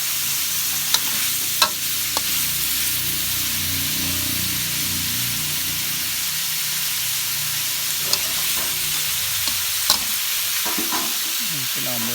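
Pork belly frying in a pan with oil, a steady low sizzle under soft stirring scrapes and a few sharp clinks of a utensil against the pan, close and alone.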